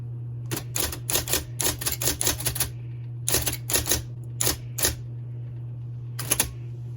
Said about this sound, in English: So I'm going to type on the keys down here, and we're going to watch it.